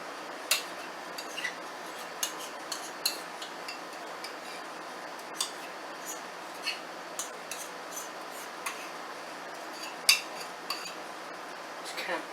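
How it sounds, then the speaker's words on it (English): A spoon spreads topping over a meatloaf, making faint, irregular clicks and light scrapes against the dish over a quiet background. "We're just going to spoon this on here"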